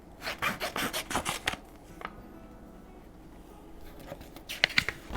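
A quick run of crisp paper-cutting strokes around a paper doll, then a pause, a single cut, and another short burst of cuts at the end, close and fairly quiet.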